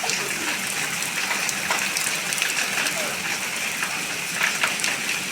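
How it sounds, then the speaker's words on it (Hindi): Steady rain pours in Jhansi, an even, dense wash of falling water that fills the whole stretch at close range. "झांसी के अंदर बारिश हो रही है।"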